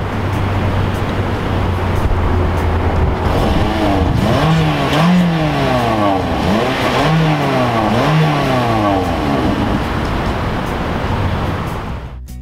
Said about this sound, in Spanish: Claro que no creo que nadie compre este auto por el sonido del motor